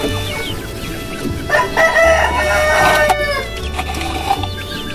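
Australorp chickens crow and cluck in a loud, busy run of calls, several overlapping crows rising and falling against steady low background rumble, with no talking.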